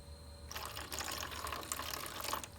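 Water trickles and splashes into the number 1 track of an egg incubator tray, starting abruptly after a short pause and continuing as a steady, close pour with no voices.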